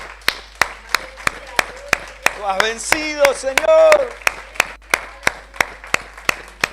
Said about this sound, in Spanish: ¿Por qué no le damos un aplauso fuerte a nuestro Dios?